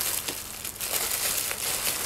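A plastic clothing package being torn open crinkles and crackles in irregular bursts, close and fairly quiet, with no voices.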